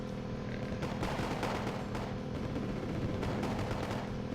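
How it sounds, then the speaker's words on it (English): Grad rocket artillery firing in the video game Wargame: AirLand Battle, a dense continuous rumble of launches and distant blasts with repeated sharper bursts throughout. "My grads are ready to fire again."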